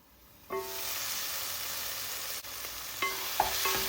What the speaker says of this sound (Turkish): Salçamız da iyice kavruldu.